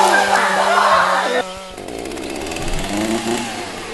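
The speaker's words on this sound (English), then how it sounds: "That sounds like a chainsaw." A chainsaw engine whines loudly for about a second and a half, then cuts off, leaving a rougher, lower rumble and background noise.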